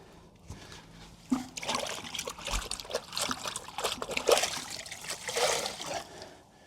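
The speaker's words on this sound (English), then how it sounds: "That is a mucky sponge, isn't it? Let's go rinse it out." A dirty car-wash sponge being rinsed out in a bucket of water, with quiet trickling, sloshing and dripping sounds in irregular bursts, close by and without talk.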